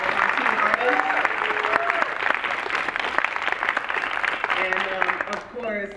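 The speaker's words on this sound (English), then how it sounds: "Can we all give a round of applause to all of our teen artists?" An audience claps for teen artists at a community arts event, a broad wash of applause running under a speaking voice before tapering off near the end.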